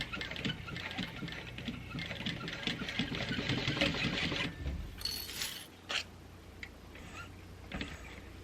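A Juki 1181 sewing machine stitches a purse, a rapid mechanical chatter of needle strokes in bursts that slows and stops, followed by a few light clicks and knocks.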